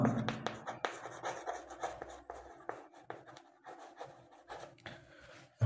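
Pen or pencil scratching across paper while writing out a sum of distances by hand, a steady run of close, rubbing strokes with short pauses.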